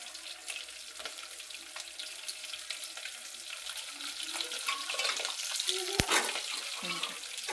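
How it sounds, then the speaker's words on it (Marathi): Spices crackle and sputter in hot oil while tempering dal, a dense broadband sizzle running throughout with a sharp pop near the end, close and moderately loud, with no talk. "हे बघा तुम्ही पाहू शकता का कसं तडतड होतंय."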